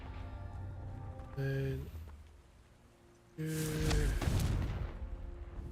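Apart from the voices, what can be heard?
Confringo blasting spell cast in a Harry Potter video game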